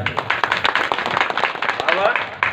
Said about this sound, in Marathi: एकदा जोरदार टाळी होऊ द्या